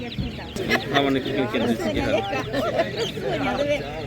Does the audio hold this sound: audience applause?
no